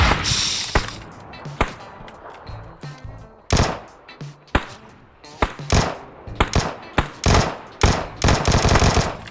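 Gunfire in PUBG crackles in loud, close bursts and single shots, sharp and irregular, growing denser toward the end of the stretch.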